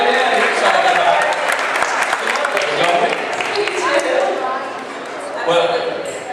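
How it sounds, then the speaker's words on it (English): An audience at a thrift and consignment fashion runway event claps and cheers loudly and continuously, the dense applause carrying on under a host's speech. "Come on, raise your hands, clap."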